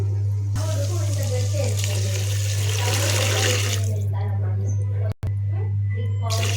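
Water is poured into a pot of potato pieces that have been fried in oil, making a steady rushing splash with a low hum underneath that stops abruptly near the end.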